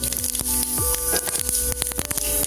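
Mustard seeds splutter in hot oil in a pan, with rapid, irregular crackling pops packed closely together and sharp, loud and near, over a steady frying hiss.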